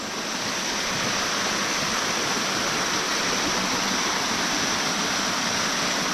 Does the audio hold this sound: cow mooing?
no